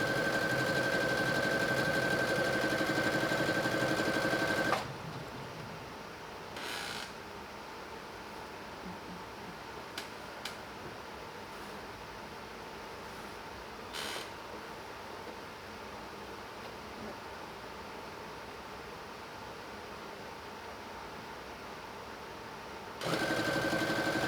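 A sewing machine stitching a fabric scrunchie, a loud steady whir at the start and again at the end, with a long quiet stretch of faint handling noises between the runs.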